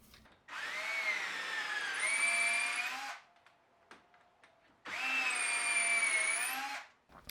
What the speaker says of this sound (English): Then I'll drill a hole corresponding to the size of the screwdriver shank with a hand drill.